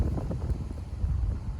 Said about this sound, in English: oh, it's really windy